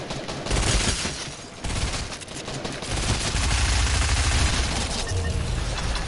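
Video game gunfire crackles in dense, loud volleys, with a brief lull before the shooting resumes and continues steadily to the end.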